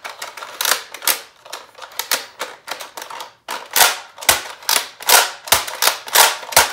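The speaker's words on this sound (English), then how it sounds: "it cycles the clip when you pull the slide forward" The slide of a Nerf Rukkus ICS-8 blaster is worked repeatedly to cycle its clip, producing a fast run of close, sharp plastic clacks and ratchets in an uneven rhythm.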